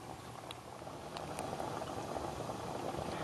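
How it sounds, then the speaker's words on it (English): A pot of bolognese sauce bubbles toward a boil, a soft continuous burble of popping bubbles growing slightly louder, with no talking. "So we're going to bring this up to a boil and then kind of bring it down and simmer it."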